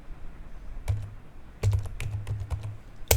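Fingers tap out short bursts of keystrokes on a computer keyboard, quick close clicks in uneven clusters with a final louder key press, no voices.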